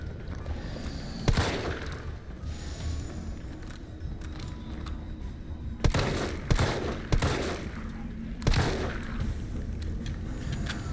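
Video game gunfire from a shooting match: several sharp, loud shot bursts spaced irregularly over a steady background rumble and noise, with a tight cluster of shots partway through.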